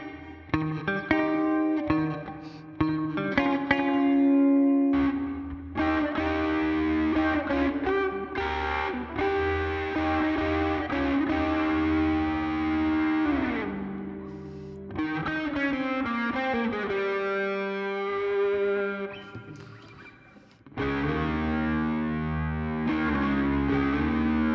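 Electric guitar run through a Line 6 POD Go, switching between snapshot tones with distortion and chorus-like effects, playing chords and lead phrases loudly and steadily with a brief dip near the end.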